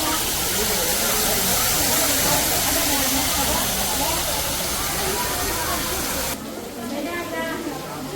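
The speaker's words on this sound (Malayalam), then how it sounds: "ഇവിടെ ഒരു വെള്ളച്ചാട്ടം ഉണ്ട് കേട്ടോ." A small waterfall in the landscaped garden of a newly built home gives off a steady rushing splash, with voices talking over it. The sound drops noticeably quieter near the end.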